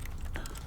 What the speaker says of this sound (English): if I just press my click button, it makes typing noises.